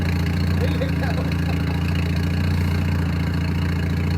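A pink Yugo idles with a loud side-pipe exhaust, giving a steady, close, unbroken engine drone with a low rumble throughout.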